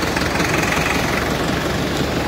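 A fishing boat's engine runs at sea, loud and close, with a steady low rumbling chug that holds constant throughout.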